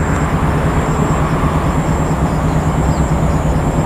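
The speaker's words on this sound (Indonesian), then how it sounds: "Nah, ini kereta api Bandung Raya Ekonomi." Bandung Raya Ekonomi economy-class commuter train running on the line from Padalarang toward Bandung, a steady loud rumble of rolling wagons with continuous broadband rail noise and a faint high whine throughout.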